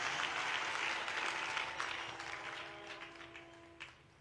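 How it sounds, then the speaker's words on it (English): Crowd clapping at a national prayer gathering in Nyayo Stadium, Kenya, a distant, diffuse wash of applause that slowly tapers off, with faint voices and a tonal hum underneath. "Can you put your hands together"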